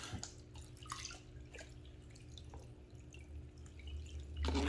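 Water is rinsed over paydirt in a mini sluice, faint dripping and trickling with small splashes, quiet and close, ending in a louder pour.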